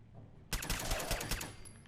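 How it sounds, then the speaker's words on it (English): Rapid pistol gunfire in Fallout 4 erupts after a half-second lull and continues as a dense, loud burst of overlapping shots through the rest of the moment. "Eviscerate you with this pistol."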